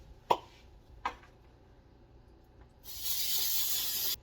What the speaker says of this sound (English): Spray with vegetable oil, because lubrication is always important.